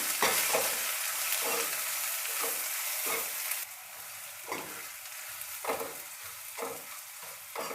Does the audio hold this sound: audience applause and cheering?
no